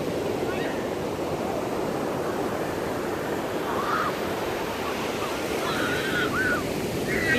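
Ocean surf at Crystal Cove beach rolls in as a steady, loud broadband wash with no clear breaks, with a few faint chirps above it.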